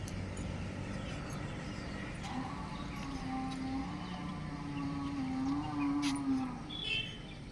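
Buffaloes lowing in a village, a few long drawn-out moans at moderate distance over a steady rural background hum, with no talking.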